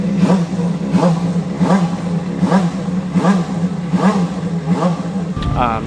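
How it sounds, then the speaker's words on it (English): A turbocharged CART Indy car engine revs repeatedly up close, each blip rising and falling in a steady, loud rhythm about once per second over a constant low idle drone. "before today, I'd never heard one of these cars fire up"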